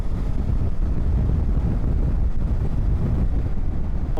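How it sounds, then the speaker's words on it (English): Heavy headwind buffets the microphone while riding a BMW F 450 GS motorcycle, a loud, constant low roar of rushing air that covers almost everything else. "It's picking up speed really nicely, even though I have quite a bad headwind."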